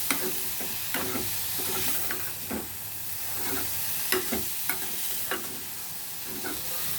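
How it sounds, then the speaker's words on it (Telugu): Radish and coconut curry seasoned with salt and turmeric being stirred in a pan, with a soft background sizzle broken by repeated utensil scrapes and taps against the pan, close up and without talk. "ఇది అన్నీ వేసుకుని బాగా కలుపుకుందాం"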